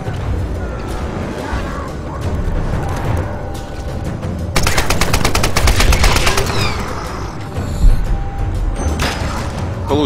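Loud assault rifle fire in Tomb Raider (2013) comes in rapid automatic bursts, with a dense sustained volley in the middle and scattered booms and mechanical clatter around it.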